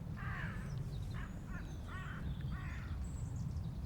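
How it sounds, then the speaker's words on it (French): A passing crow gives a series of about five hoarse caws over a steady low rumble of distant traffic or an aircraft in a garden setting. "Là il y a le corbeau qui passe"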